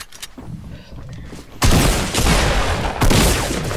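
Bursts of SMG gunfire in the Fortnite video game, loud and dense, with a heavy volley starting midway and another near the end, over faint background game sounds.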